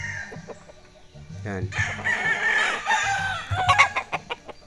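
A young fighting rooster, a stag, clucks and crows nearby in a backyard breeding setup, with a drawn-out crow in the middle and sharp clucks after it, while someone talks briefly.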